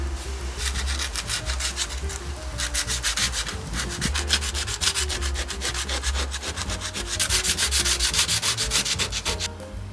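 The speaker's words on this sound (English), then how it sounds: "so we're gonna sand this. I'm gonna do it by hand, and I'm gonna start with 120" Bondo body filler on a Toyota Celica side skirt being hand sanded with 120 grit sandpaper, a steady rasping scrub of rapid back-and-forth strokes that continues loud and close throughout.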